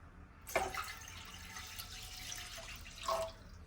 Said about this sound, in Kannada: ಇವಾಗ ಇದಕ್ಕೆ ನಾನು 3 ಕಪ್ ನೀರು ಹಾಕೊತಾ ಇದ್ದೀನಿ